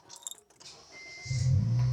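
A 2018 Honda Jazz 1.5 RS fires up by push-button start after faint clicks and rustling, its engine catching and settling into a steady, moderately loud idle close by.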